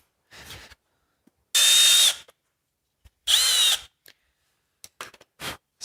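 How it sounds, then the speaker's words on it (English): A power drill bores holes in an aluminum block-off plate, two loud whining bursts about half a second each separated by a pause, surrounded by quieter clicks and handling taps. "So I'm just going to make a little mark in it and drill it out"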